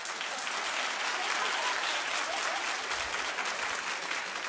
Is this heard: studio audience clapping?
yes